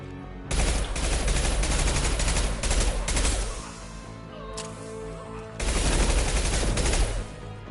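Friendly gunfire in the video game Mass Effect Legendary Edition, loud sustained bursts of rapid shots that break off for a moment and resume, close and harsh with no talk over it.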